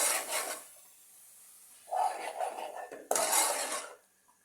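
Beef mince filling for samosas is stirred in a pan, giving short scraping and rubbing bursts of a utensil against metal, fairly close, separated by quieter gaps.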